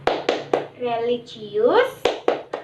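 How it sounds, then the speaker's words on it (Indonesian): Schoolchildren perform the rhythmic PPK clap: sharp, close group claps in two short bursts at the start and end, with a child's spoken chant in between. "Dilanjutkan dengan tepuk PPK."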